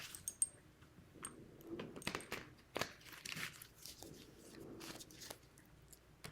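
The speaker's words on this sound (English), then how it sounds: "let's give a ruffle shuffle" Tarot cards are given a ruffle shuffle, producing soft, quiet bursts of riffling and flicking that come in short irregular clusters.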